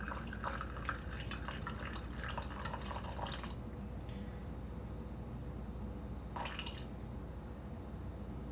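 Water poured from a tap into an einkorn sourdough starter, a close steady rush with spattering for a few seconds, stopping, then a short second burst over a constant background hum.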